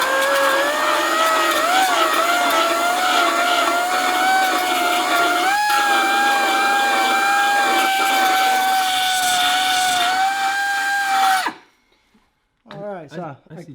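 A power tool grinding out spot welds on a Chevrolet Nova body during rust repair, a loud steady high whine with shifting pitch for about eleven seconds, then stopping before a person begins speaking.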